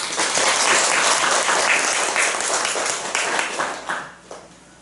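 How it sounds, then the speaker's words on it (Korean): Church congregation clapping in welcome during a Sunday service, a full, lively round of applause that holds strongly and then tapers off near the end. "다시 한번 환영의 박수 힘차게 보내주시길 바랍니다"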